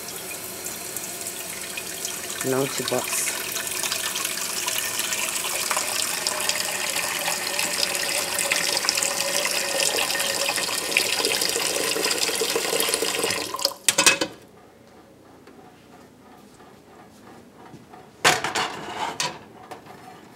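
A kitchen tap runs in a steady, close gush for several seconds, then stops; after a quiet pause it briefly runs again, and a voice speaks a few words.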